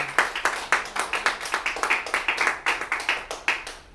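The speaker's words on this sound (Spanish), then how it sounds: "Esas palmas fueron para el hombre, fíjese." A church congregation claps in a steady rhythmic beat, sharp, evenly spaced hand claps from a group, fairly close and clear, repeating throughout with no talking over them.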